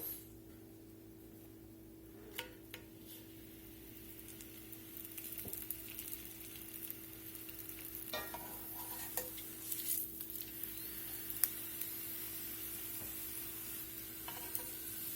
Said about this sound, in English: We're going to fry these tortillas about 20 to 30 seconds a side